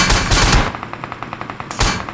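Video game gunfire in fast bursts, with loud dense volleys at the start and end and a steady run of sharp single shots in between.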